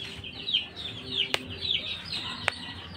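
Soft clucking gamecock calls come and go with faint chirping birds over a noisy outdoor background, with a couple of sharp knocks.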